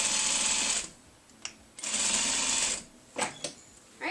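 A sewing machine stitches a quilt seam and then backstitches at its end: two long bursts of rapid stitching, followed by a few short stitches, with brief quiet gaps between them, close and clear.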